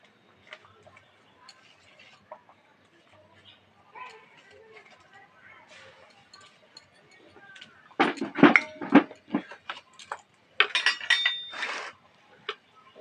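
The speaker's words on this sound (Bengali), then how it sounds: "এবার এর মধ্যে এক বাটি গোটা গোটা পেঁয়াজ কেটে রেখেছি গোল গোল করে, সেটা দিয়ে দেবো।" Round-sliced onions and mourola fish tipped into a pan, with light ticks and clinks of utensils at first, then louder bursts of clattering and sizzling toward the end, under a speaking voice.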